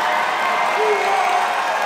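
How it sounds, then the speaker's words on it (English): A graduation crowd applauds the fall 2023 graduates as they stand, a steady dense wash of clapping with some cheering that stays even throughout. "pull together our largest round of applause yet one more time for all of the graduates"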